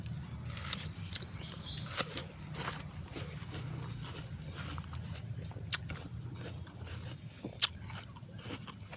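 Someone bites into and chews a crisp honey rose apple (jambu madu dili), with several sharp crunchy bites over soft, close, wet chewing and no talking.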